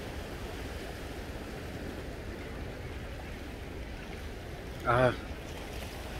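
Strong sea waves roar steadily against a rocky fishing shore, a constant broadband wash with no pause, broken by a short vocal exclamation near the end.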